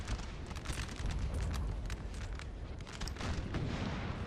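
Cannon fire from a 6-pounder artillery piece in Napoleon Total War: a dense, rumbling stretch of repeated booms and crackling shots with no pauses, mixed with distant battlefield musketry.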